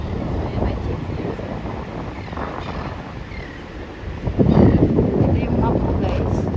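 Strong wind at the beach roars and buffets the microphone, with gusts rising and swelling louder midway, surf faintly beneath and a person speaking over it.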